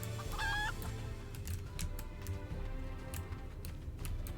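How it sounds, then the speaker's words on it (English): Chickens clucking in a video game, with one clear squawk near the start followed by soft intermittent clucks and ticking sounds over a steady low ambient hum. "Look at the chickens!"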